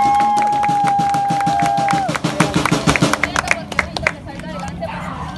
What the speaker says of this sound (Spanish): Muchachos, un aplauso